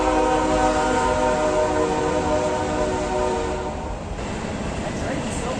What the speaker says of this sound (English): Here comes the train, so we either have to shout really loud or not talk for a while.